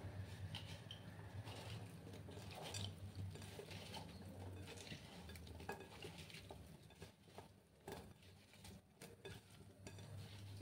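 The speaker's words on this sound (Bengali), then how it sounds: "এই যে দেখো আমি এগুলো মেখে নিচ্ছি" Teasel gourd and potato pieces being mixed by hand with salt and a splash of water, giving a continuous soft squelching, rustling rub with occasional clinks against the bowl, fairly quiet and steady throughout.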